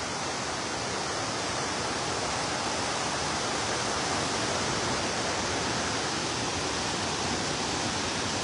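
The Mag-aso waterfall roars as a dense, unbroken rush of falling water, loud and close, holding steady throughout with no voices over it.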